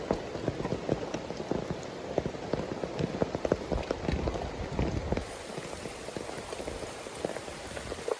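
Heavy rain pours steadily on a farm where cattle, carabao, goats and pigs are kept, a dense, loud drumming hiss with scattered droplet taps that eases slightly partway through.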